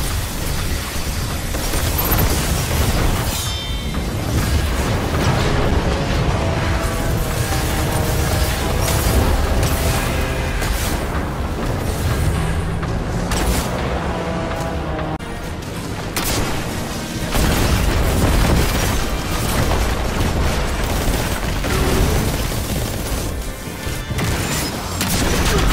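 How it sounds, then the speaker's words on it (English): A rocket launcher fires and explodes in Destiny 2 during a Warlock fight, heavy booming blasts and crashing impacts over continuous loud gunfire and rumbling combat noise throughout, with no talk. "See how the rocket just fired off like that?"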